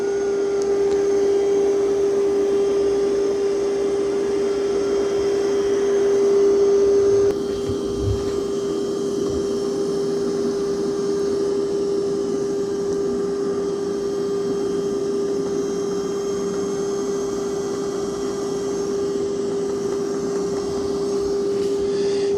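Roborock Qrevo Edge robot vacuum running indoors: a steady, close, loud motor hum with a strong tonal whine throughout, shifting slightly in character partway through, with no talking.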